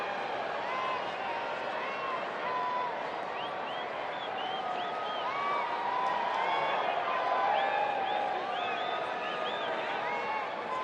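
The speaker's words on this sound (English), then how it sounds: "Decent crowd here for a Monday, trying to get the wave going." A steady roar from a big baseball stadium crowd as fans try to get the wave going during a Monday game between the Rays and Angels, swelling slightly and carrying on under the broadcast.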